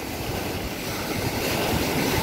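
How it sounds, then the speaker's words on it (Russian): Black Sea waves wash and churn in a steady, close surf roar, mixed with some wind noise and no voices. "тут еще волны будут"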